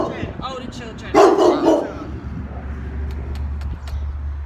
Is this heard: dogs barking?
yes